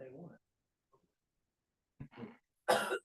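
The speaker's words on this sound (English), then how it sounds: "Oh, no, don't start coughing." A few sharp coughs in a dry courtroom after a brief burst of voice, with a short pause between them; the final cough is the loudest, close and harsh.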